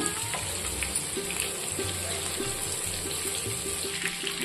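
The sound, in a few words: tandoori fish frying in oil on a tawa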